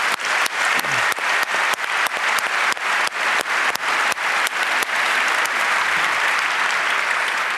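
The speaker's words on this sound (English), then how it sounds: "I just want to give him another round of applause for making this human rights observation project." A large conference crowd at the Chaos Communication Congress, during a Tor Project talk, claps loud and near. It opens in a strong, regular rhythmic beat, then melts into a continuous dense roar of applause.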